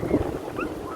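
Strong wind gusts buffet a high-tunnel greenhouse, a steady loud rush with blustery swells and a faint flapping of plastic sheeting and frame.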